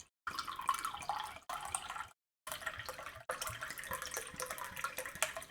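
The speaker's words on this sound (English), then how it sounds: "Let me pour myself a glass of water" Water is poured into a glass behind a home bar, a close trickling and splashing stream interrupted by short pauses and with no talk.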